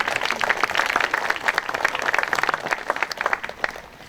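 An audience at a memorial ceremony claps in sustained applause that stays dense and even from start to finish, with no voices over it.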